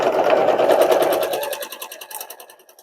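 A sewing machine stitches pieces of a sunflower quilt, a steady fast whirring rattle of the needle running continuously and then fading to lighter, quicker ticking as it slows near the end, with no talking.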